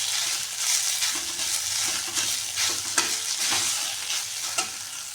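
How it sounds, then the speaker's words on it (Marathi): Grated fresh coconut sautéed in hot ghee for modak filling, a soft continuous sizzle broken by brisk, rhythmic stirring and scraping strokes close by, without any speech. "तूप आपलं छान गरम झालं आहे हे नारळाचं पीस ना छान असं परतून घ्यायचं आहे"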